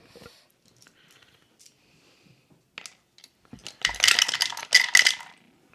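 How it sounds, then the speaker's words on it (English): A handful of plastic dice clatter down a dice tower at a tabletop game, first faint scattered taps, then a loud close burst of rattling and bouncing clicks. "Okay, and then Blaine, will you take your microphone out of the stand and put it right up to the dice tower?"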